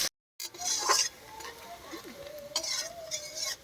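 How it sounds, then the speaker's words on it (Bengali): Banana flower (mocha) cooking in a pot and being stirred, a spoon scraping and clinking against the metal in irregular strokes over a soft sizzle, close by, with no talk. "এখন দেখানো হচ্ছে তাহলে মোচা কীভাবে রান্না হচ্ছে"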